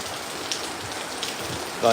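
Monsoon rain with wind in Kozhikode, Kerala, pattering steadily nearby with a few louder drops, before a voice briefly starts at the very end.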